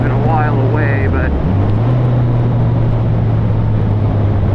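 Flash-tuned Yamaha FZ-09 motorcycle engine rumbling loudly and steadily up close, with a brief rise and dip in pitch early on, under strong wind noise throughout.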